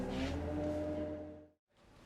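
Low, smooth hum of a boat engine on open water, steady and moderately close, fading out briefly near the end before picking up again.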